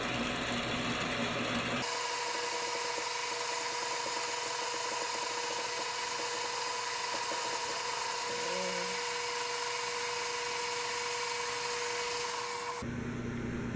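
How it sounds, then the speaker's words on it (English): End mill cutting on a vertical milling machine while restoring a 1957 Bolens No. 2, a steady loud grinding whir with a faint tone that runs close and continuous for about eleven seconds, then stops. "I have the end mill locked in place vertically, and I'm raising the work table with the big crank"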